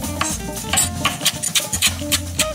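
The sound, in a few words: knife chopping fresh flat leaf parsley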